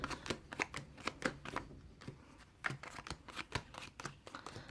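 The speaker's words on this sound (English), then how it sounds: "I'm just going to shuffle them around so I don't know where they are." Tarot cards riffled and shuffled in a rapid series of crisp, papery bursts, close up with short pauses between flurries.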